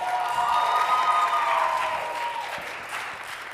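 An audience claps at a community Africa Night cultural show, a sustained round of applause that gradually thins and fades, with some faint voices in the crowd.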